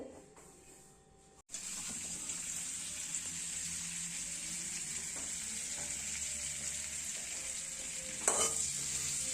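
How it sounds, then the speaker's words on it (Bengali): Bay leaves and cumin seeds sizzle in hot oil for a fish curry, a steady close hiss that starts abruptly after a brief quiet moment and holds evenly, with a louder crackling burst near the end. "ফোড়ন দিয়েছি তেজপাতা আর জিরে"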